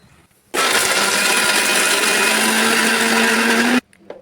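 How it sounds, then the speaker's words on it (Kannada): An electric mixer grinder powders coconut with cardamom, running loud and steady for about three seconds with a sharp start and stop and a whining motor pitch that rises slightly near the end. "ಮಿಕ್ಸಿ ಜರ್ನಲ್ಲಿ ಹಾಕ್ಕೊಂಡು ನುಣ್ಣಗೆ ಇದನ್ನು ಪೌಡ್ರ್ ಮಾಡ್ಕೊಂಡು ಬರ್ತೀನಿ ರೀ"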